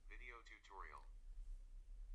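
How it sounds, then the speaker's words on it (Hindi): A synthetic text-to-speech voice from Excel's Speak Cells feature reads a typed cell aloud in one short, clear utterance of about a second, followed by quiet room hum. "और एंटर प्रेस करते हुए देखें ये स्पीक करेगा।"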